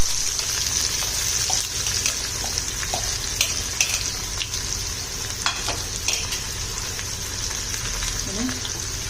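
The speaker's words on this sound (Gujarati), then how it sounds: "થોડું જીરું, થોડી હિંગ અને લીમડો આ એડ કરી અને એક ડુંગળી એડ કરી દઈશું." Onion frying in oil with cumin seeds, asafoetida and curry leaves for a Gujarati sev undhiyu, giving a steady close sizzle with light stirring scrapes throughout.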